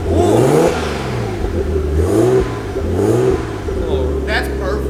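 Nissan Skyline R32 engine with a full exhaust revving in repeated rising and falling pulls, loud and close, with people talking over it.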